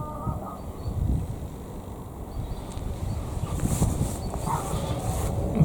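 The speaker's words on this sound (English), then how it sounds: "dog's having a go at me" A dog barks and whimpers at a distance outdoors at an old Cold War anti-aircraft site in Shoreham, the yaps coming in short bursts under steady wind buffeting the microphone.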